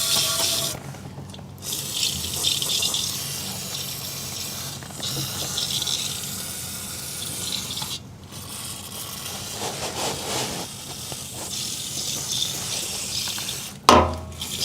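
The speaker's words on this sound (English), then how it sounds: "I'm gonna take some brake parts cleaner and clean all that frame rail off." Brake parts cleaner hisses in steady, close spray bursts across the frame rail of a 2006 Toyota, broken by a few short pauses and ending with a sharp clack.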